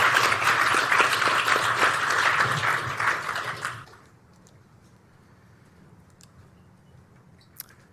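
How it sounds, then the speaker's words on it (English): Audience applause at an investor forum fills the room for about four seconds, then fades abruptly into near silence with a faint background hush and one small click. "Let's give Jai a round of applause"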